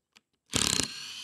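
A Hart power tool backs an old, long-set screw out of wood in one short, close mechanical whir with a ratcheting texture, preceded by a couple of faint clicks.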